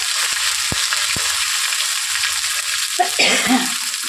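Spices and ginger paste fry in hot oil for a pot of vegetarian dal, a steady broad sizzle with a few sharp pops and a scraping stir near the end.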